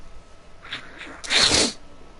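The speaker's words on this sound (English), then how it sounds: "Why do you always sneeze so loud?" A single loud sneeze indoors, preceded by a couple of short sharp intake breaths and then a forceful burst, nearby and clear against a quiet room.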